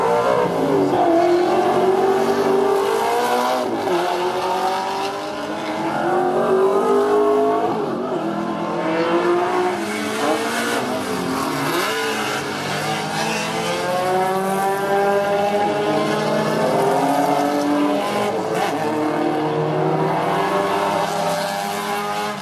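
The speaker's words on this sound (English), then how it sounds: "Car sounds alright to me anyway" Race car engines at a motorsport festival track with V8 Supercars and NASCAR, a steady loud roar of several cars passing and revving through gears for over twenty seconds, pitch sweeping up and down as they go by.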